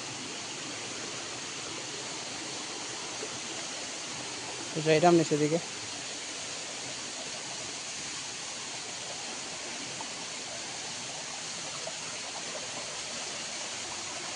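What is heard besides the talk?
waterfall flowing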